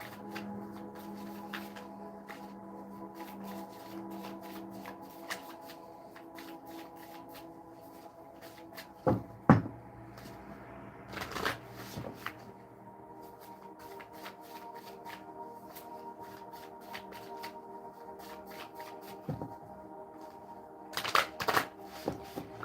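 Tarot cards shuffled by hand during a paid reading, a soft continuous riffle and slide of cards with sharper bursts of snapping and tapping at a few moments, close and moderately quiet under a steady room tone.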